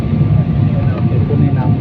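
Inside an airplane descending to land at Dhaka, a steady, loud engine and air roar fills the cabin without letup, with muffled voices faintly underneath.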